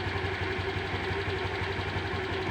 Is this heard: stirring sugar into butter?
no